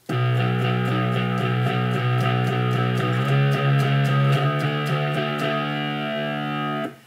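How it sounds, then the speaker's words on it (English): Sustained distorted electric guitar power chords ringing out, with a few chord changes and a steady, thick, loud tone that cuts off near the end. "power chords work brilliantly as long as you've got distortion on"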